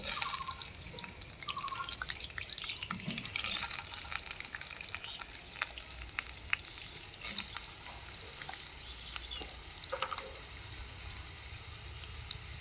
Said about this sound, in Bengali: দিয়ে দিচ্ছি তেলের মধ্যে আলু ধুয়ে রাখা